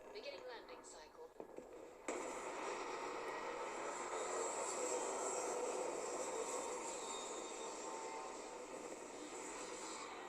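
A Starfield spaceship comes in to land: a steady, loud broadband roar of engines and rushing air kicks in abruptly after a couple of seconds of quieter rumble and holds evenly to the end.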